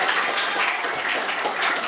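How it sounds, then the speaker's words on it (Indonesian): Audience applause at a motivational prayer gathering before school exams, dense continuous clapping from a large crowd, loud and even throughout. "Luar biasa. Tepuk tangan dong warnanya."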